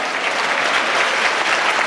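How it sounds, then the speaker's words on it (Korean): A church congregation at a deaf ministry service claps loudly and continuously, a dense, even wash of many hands with no break. "더 크게 박수 치겠습니다"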